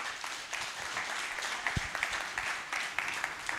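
A lecture audience applauds at the end of a public university talk on chiropractic, steady dense clapping at moderate distance, fairly soft and continuous.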